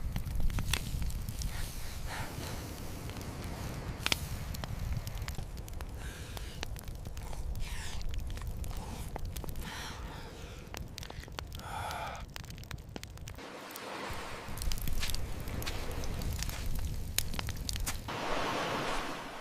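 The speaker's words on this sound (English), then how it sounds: "On the open shore, a fire crackles against the wind." A fire on an open shore crackles and pops in the wind, a steady rushing blow of gusts with scattered sharp snaps throughout, moderately loud and continuous.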